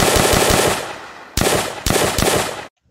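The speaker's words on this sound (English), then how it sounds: "Now we have a full auto Mont Carbine." A full-auto M1 carbine fires in an Unreal Engine zombies video game, a rapid burst of loud, evenly spaced synthetic shots followed by two more short bursts that end in abrupt silence.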